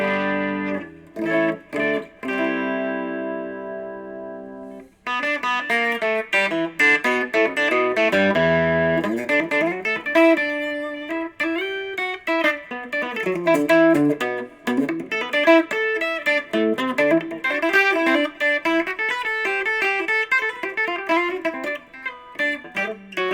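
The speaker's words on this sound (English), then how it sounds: "This is the bridge position pickup by itself on a clean channel on my" Ibanez Artcore AS7312 12-string guitar played through its bridge pickup alone on the clean channel of a Monoprice 15 watt amp, picked notes ringing with a chorus-like shimmer, a few single strums then a continuous busy picked passage, loud and close.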